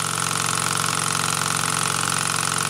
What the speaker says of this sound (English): This engine is still going strong also.